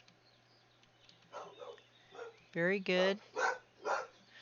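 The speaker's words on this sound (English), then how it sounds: "And of course, that's my barky dog." A pet dog barks close by, two loud harmonic barks followed by a couple of softer yips, with a person briefly speaking beforehand.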